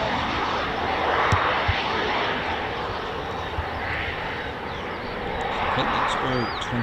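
An RAF Typhoon FGR4 jet returns to base, heard as a steady distant engine roar that swells and fades slightly across the stretch, with faint bird calls near the end.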